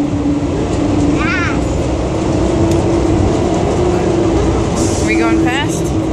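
Continuous rumbling ride inside a monorail train, with a steady mechanical hum and rolling noise, while a voice chirps over it a couple of times.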